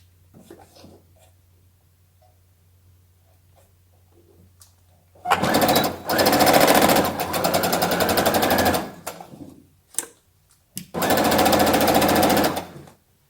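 Sewing machine stitching a godet: after a quiet start, a loud, close, steady mechanical whirr runs for several seconds, pauses briefly, then resumes for a second long burst, with no talk.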